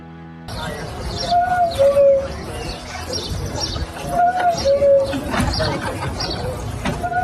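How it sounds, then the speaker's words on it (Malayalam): A cuckoo clock's bird calls out the hour with a pair of two-note cuckoo calls, repeated twice amid mechanical clatter and background noise. "കൊക്ക് കിളി വെളിയിലേക്ക് വരുന്നതും അതിന്റെ മധുരമായ സ്വരത്തിൽ സമയം വിളിച്ചറിയിക്കുന്നതും നമുക്കൊന്ന് കാണാം"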